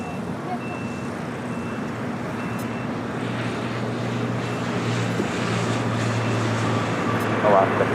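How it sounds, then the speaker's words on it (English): Boeing 777 rolling down runway 25 right at LAX, a broad steady engine roar heard from a distance that swells gradually, with a low hum underneath. "All right, the 777 now rolling down at 25 right."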